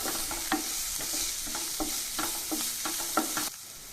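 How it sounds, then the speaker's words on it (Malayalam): Onions and sliced green chillies fry in a pan with a bright, constant sizzle. Quick stirring strokes scrape and tap the pan in a busy rhythm, then the sizzle drops off abruptly near the end. "ഇനി നമുക്കിതിലേക്ക് 3 പച്ചമുളക് നീളത്തിൽ അരിഞ്ഞത് കൂടെ ചേർത്ത് ഇളക്കി കൊടുക്കാം"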